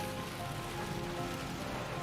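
A heavy rain downpour falls steadily as a dense, even hiss of drops striking surfaces, close and constant throughout the short stretch with no other sounds.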